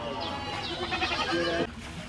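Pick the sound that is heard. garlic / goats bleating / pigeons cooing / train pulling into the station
goats bleating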